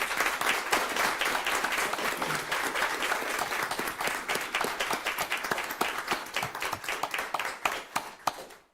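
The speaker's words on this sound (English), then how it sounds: "let's give him a round of applause" Audience applause at a school board meeting for a high-school senior being honoured, a dense steady round of many clapping hands that holds throughout and thins out into scattered claps before stopping.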